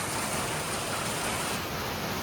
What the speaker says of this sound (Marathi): पाऊस परत वन साईड चालू झाला आहे बघा